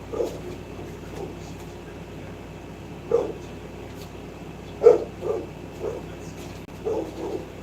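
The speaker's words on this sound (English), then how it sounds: "barking" A dog barks intermittently from a distance, several short muffled woofs spread over a steady low background hum.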